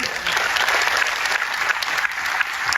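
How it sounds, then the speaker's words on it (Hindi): Audience at a business plan seminar applauding, a thick continuous wash of clapping from many hands that holds steady and fairly loud throughout. "उनके लिए एक बार ताली बजा सकते हैं अपन"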